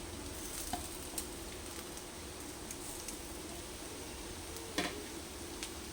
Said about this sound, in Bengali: নারকেল দিয়ে এক থেকে দেড় মিনিট মতো নাড়াচাড়া করে